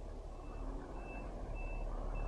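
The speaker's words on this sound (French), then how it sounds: "Est-ce qu'on laisse passer le camion?" A truck's reversing alarm gives evenly spaced high beeps over a heavy, steady engine rumble, heard on a road from an electric scooter, moderately close and continuous.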